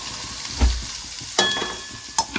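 Curry leaves and chevdo dropped into hot oil already seasoned with mustard seeds, cumin and asafoetida, giving a loud burst of sizzling, then steady frying crackle with a few sharp spatters, close by with no talking.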